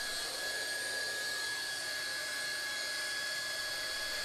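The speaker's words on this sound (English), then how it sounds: "Hot welding of internal and external mitres." A hot air welding gun blows a steady, even hiss while welding internal and external mitres on Altro safety flooring, with a thin high whine running underneath and no voices.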